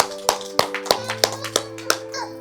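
Pre-primary children at a school assembly clap in a steady beat, about eight even claps, close and clear, with a sustained tone in the background.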